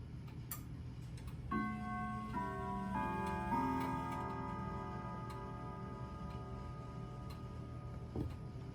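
Pearl grandfather clock with a Hermle movement plays its quarter chime on chime rods, a short sequence of clear ringing metallic tones sustaining and decaying over a steady ticking, heard close with no talk.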